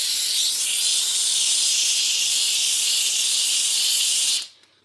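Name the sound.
handheld steam cleaner hissing steam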